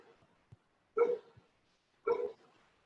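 A dog that has just hunted a rat gives two short, quiet barks about a second apart, preceded by faint small yips, in an otherwise near-silent room.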